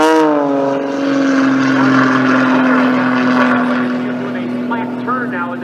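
An aerobatic propeller airplane at an air show at Richard Downing Airport, Coshocton, Ohio, gives off a loud, sustained engine drone with a steady prop tone that swells and slowly fades as it passes, under an announcer's commentary.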